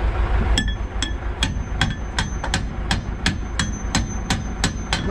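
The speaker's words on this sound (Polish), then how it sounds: "Dobra, młotka. Daj młotka." A hammer strikes metal on a Bizon Rekord combine harvester: about a dozen sharp, evenly spaced blows ring out close and loud over a low rumbling background.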